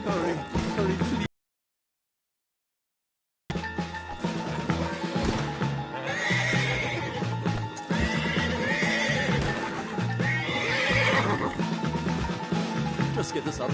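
A horse neighs and whinnies while hooves clip-clop steadily in Red Dead Redemption 2 gameplay, with a brief stretch of silence before the hoofbeats and whinnies return over faint voices.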